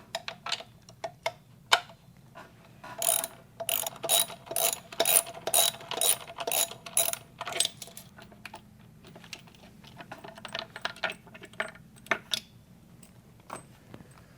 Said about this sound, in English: So we're just going to get a socket wrench and remove these bolts.